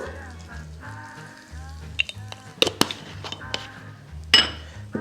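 Tempering spices and turmeric crackle in hot oil in a pan, a light sizzle with sharp pops and a few metallic clinks of utensils against the vessel, close and without talk.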